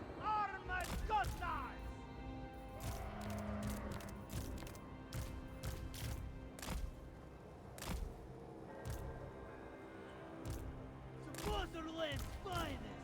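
Musket-armed infantry firing in a Total War: Warhammer III battle, a string of sharp cracks and volleys at irregular intervals over a constant rumbling battlefield din.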